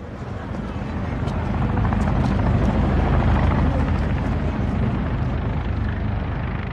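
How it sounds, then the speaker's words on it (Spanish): Helicopters during a wartime evacuation in Vietnam, a loud, steady rotor thrum and turbine roar that swells and holds throughout, with faint rhythmic blade chop. "la evacuación con helicópteros marchaba bastante bien"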